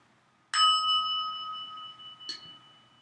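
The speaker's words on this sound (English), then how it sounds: "We'll bow with the sound of the small bell." A small meditation bell is struck twice, first with a bright ring that hangs and slowly fades, then with a softer second strike near the end, clear and alone in a quiet room.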